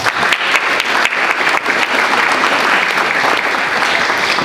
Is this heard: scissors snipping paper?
no